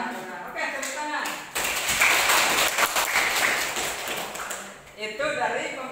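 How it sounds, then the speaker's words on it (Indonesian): A crowd claps steadily for a few seconds, a dense wash of applause that swells and then fades, with voices before and after. "Oke, tepuk tangan."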